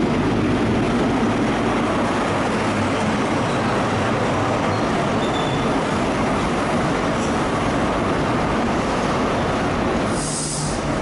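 An HST Intercity 125 with power car 43318 leading roars past at close range, a dense, steady rumble and rushing wind noise throughout, with a brief hiss near the end.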